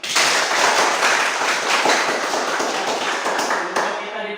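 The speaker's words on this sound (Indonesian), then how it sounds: "sekali lagi beri aplaus untuk kita semua" Applause in a school classroom: a burst of many hands clapping, loud and close, sustained for about four seconds before tapering off abruptly.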